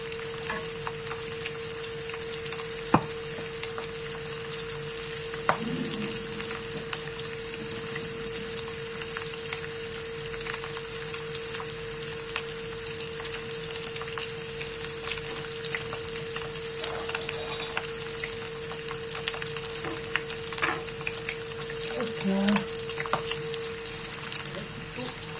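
Rabbit pieces browning in a frying pan, a faint steady sizzle under a constant background hum, with a few soft clicks and scrapes of the pieces being moved, no voices.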